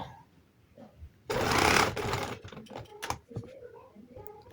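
A sewing machine runs in a fast, dense burst while stitching piping onto fabric, then gives way to lighter clicks and handling sounds as the machine slows and stops.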